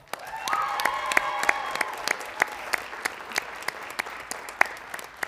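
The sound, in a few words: audience cheering and applauding for the cheerleaders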